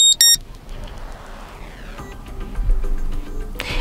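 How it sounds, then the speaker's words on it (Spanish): A Cubot Note 9 phone alarm tone plays: sharp beeping bursts at the start, then a busy stretch of electronic sound, ending in another bright burst. "Sonido de alarma."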